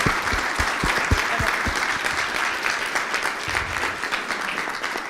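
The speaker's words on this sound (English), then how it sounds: "Big applause for Carla." Audience applause after a conference talk in a lecture room, a dense steady wash of many clapping hands held at an even level for several seconds.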